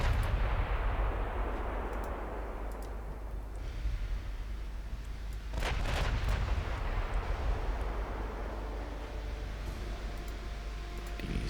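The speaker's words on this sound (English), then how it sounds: "we're already taking incoming fire" Incoming naval gunfire from warships in the naval battle game Ultimate Admiral Dreadnoughts: a steady deep rumbling roar with several sharper bursts of distant shell fire and impacts around the middle, no talk.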